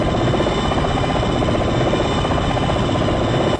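A Mustang aircraft engine roars during takeoff in an EA video game, a loud, steady, rapidly pulsing propeller drone that holds constant throughout.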